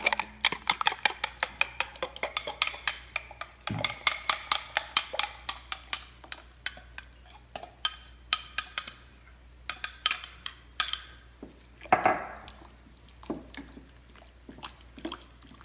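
Bitterballen batter being mixed by hand in a bowl: a rapid run of sharp utensil clinks and wet taps against the bowl, irregular and close, with a few louder knocks and a brief scrape along the way.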